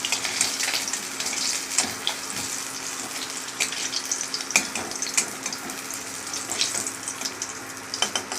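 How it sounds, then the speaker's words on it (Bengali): Fish fry in hot oil with a continuous crackling sizzle, punctuated by sharp pops and spatters, close and fairly loud throughout. "মাছ ভাজা হয়ে গেছে, তুলে নিই।"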